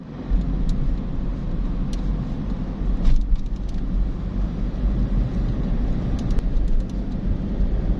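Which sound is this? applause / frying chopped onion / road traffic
road traffic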